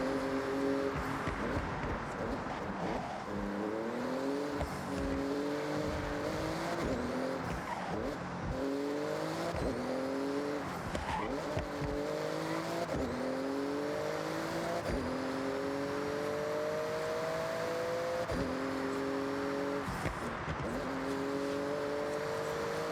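A Porsche speeds through a driving video game, its engine note rising and dropping in repeated gear-shift sweeps over about twenty seconds, with tire squeal and skids mixed in at steady loud volume and no talking.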